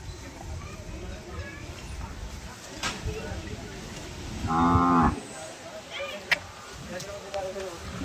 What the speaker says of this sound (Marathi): गाई भरपूर आहेत बघा इकडे, गिर गाईचे.